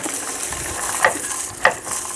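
Jackfruit seeds roast in a pan with a constant hiss and light crackle. Two brief scraping clinks of stirring stand out near the start and later on.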